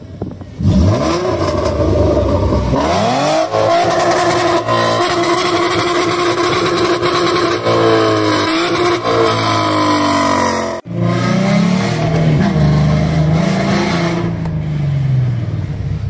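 A car engine revs loudly and repeatedly, pitch climbing and falling through several throttle bursts, close and continuous with no talking.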